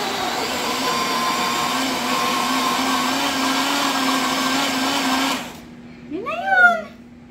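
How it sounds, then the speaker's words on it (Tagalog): An electric kitchen blender whirs loudly and steadily for about five seconds while mixing a dessert, then cuts off abruptly, leaving a quiet room and a brief voice. "Ang bilis lang kasi nitong blender na to, Nax."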